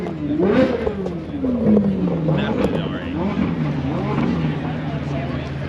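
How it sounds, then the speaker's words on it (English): Audi R8 supercar engine running at a car collection event, a droning tone that sweeps down and settles, heard under nearby voices and crowd chatter. "You got your R8 running there."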